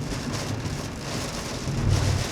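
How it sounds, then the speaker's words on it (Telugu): Torrential rain beats on a car driving through Maharashtra, a thick, steady drumming wash that swells slightly near the end, with no voices over it. "మహారాష్ట్ర ఎంటర్ అయినాక వర్షం చూడండి ఎట్లా అందుకుందాం."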